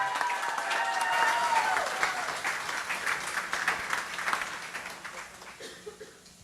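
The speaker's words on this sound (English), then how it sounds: "I think these guys need a little round of applause" A crowd applauds in a sustained burst of clapping that gradually thins and fades toward the end.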